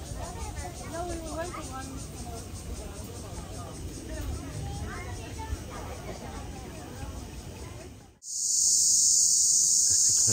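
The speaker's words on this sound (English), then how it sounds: "Cicadas, they're just singing really loud." Cicadas sing on a hiking trail, first a steady insect drone under a person's voice, then a sudden loud, shrill, continuous buzz that takes over at close range.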